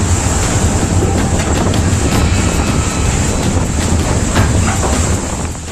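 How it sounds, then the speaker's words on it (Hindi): Strong sea waves surge and crash against a sinking tug boat in the Arabian Sea during Cyclone Tauktae, a loud, continuous roar of surf and wind noise with repeated impacts throughout. "समुद्र की तेज लहरों की टक्कर से जब बोट में पानी तेजी से भरने लगा"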